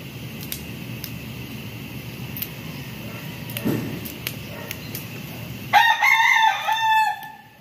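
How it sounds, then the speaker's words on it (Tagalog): A rooster crows loudly near the end, one long call rising and falling over a steady background hum and scattered clicks. "Pakaingay ng aking mga manok."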